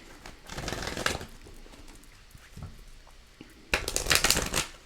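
A deck of oracle cards is riffled and shuffled in two crisp, close bursts with a softer shuffle between them, the papery flutter of the cards alone and loud.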